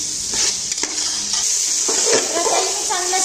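Chicken with masala stirred and sautéed in a pan for chicken dum biryani, with sizzling and scraping clatters of a utensil against the pan, close and fairly loud.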